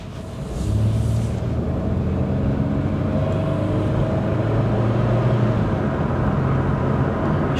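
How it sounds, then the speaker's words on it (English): Wind noise inside a moving Chevy Lumina car, a loud steady rushing roar over a low engine and road hum that sets in after a quiet first second and holds without talking. "Forgive the wind noise"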